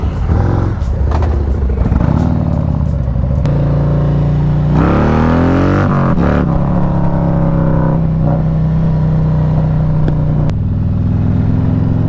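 A Harley-Davidson Street Glide with a 124 ci engine, fitted with RC Components wheels, cruises on the road in a steady, loud drone with shifting engine tones, riding alongside another bike with no talking.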